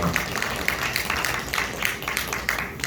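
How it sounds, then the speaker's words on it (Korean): A church congregation claps loudly in a steady, rhythmic beat, many hands striking together in regular pulses that carry on throughout. "크게 박수하십시다."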